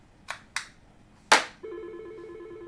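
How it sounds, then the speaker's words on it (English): A desk phone sounds a panic button alert: after three short clicks, it emits a steady electronic ringing tone that continues evenly, close and alone. "this phone's ringing, and it says panic, right?"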